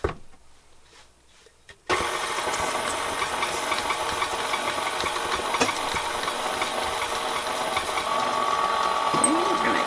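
An electric mixer churns cookie dough in a mixing bowl, starting abruptly after a quieter stretch and then running as a steady, close mechanical whir with a rattling, knocking texture.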